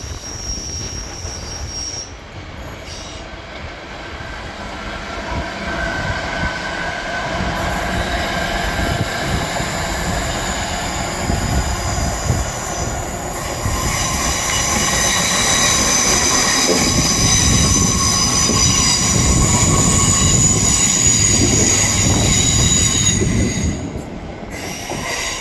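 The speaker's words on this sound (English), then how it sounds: "we're going to cross to the main line to see another northern train go whooshing past over there" A long Northern train passes close by on the main line at Ardwick Station, a sustained roar of wheels on track with high screeching squeals that build louder before easing off near the end.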